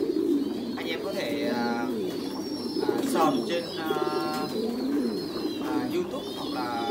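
Pigeons cooing in a breeding coop, soft repeated coos and a few higher calls under someone talking throughout, with a constant hum of background noise.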